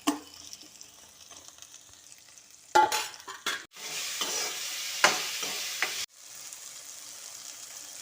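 Tomato and tamarind sautéing slowly in a pan for peanut chutney, a soft low sizzle with occasional louder stirring scrapes and clatters, close by.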